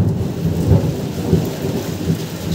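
Thunder rumbling through heavy rain on a street: low, rolling booms swell and fade over a constant dense hiss of rainfall, close and loud with no talk.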